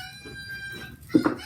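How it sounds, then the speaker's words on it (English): A rooster crows in a short, fairly distant burst at the end, after a quiet stretch of faint background tones. "It's the rooster!"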